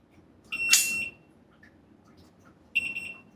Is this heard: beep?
yes